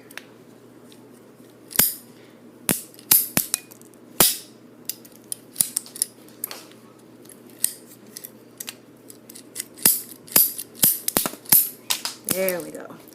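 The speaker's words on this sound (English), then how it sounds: "So I've cut off the bottom piece." A Cricut marker being cut apart, its bottom piece snipped off in a series of sharp, close clicking snaps spread across the stretch, with a faint voice near the end.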